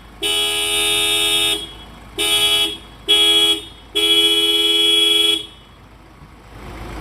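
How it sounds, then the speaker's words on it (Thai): A pickup truck's horn sounds four loud, close blasts in sequence: long, short, short, then long again, with brief quiet gaps between and a near-silent tail after the last one. "สตาร์ทรถให้ด้วยวันนี้นะครับ"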